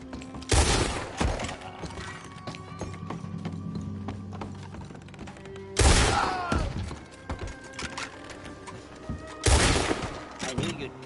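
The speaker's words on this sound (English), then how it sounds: "Todd, come out where I can shoot you!" Gunfire in the Red Dead Redemption II video game, three loud sharp shots or bursts spaced several seconds apart over a quieter background with hoofbeats.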